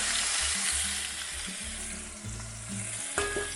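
Chunks of pork shoulder and country rib sizzle in a tablespoon of olive oil at the bottom of a Dutch oven, a steady loud hiss of frying with occasional scrapes and clunks as pieces shift.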